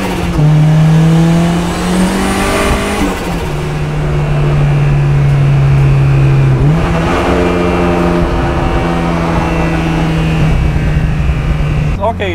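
A big-turbo Mazda Miata running 15 psi boost, turned up past 300 horsepower, accelerates hard, its loud engine note climbing through the gears with clear drops at each shift, heard from inside the car.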